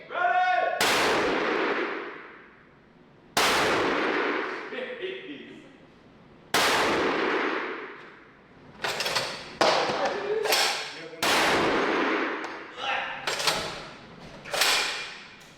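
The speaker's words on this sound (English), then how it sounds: "we got some normal rounds that all should fire" A .375 CheyTac rifle fitted with a large muzzle brake fires five loud, sharp blasts spaced a few seconds apart, each ringing off with echo, and a voice calls out before the first shot.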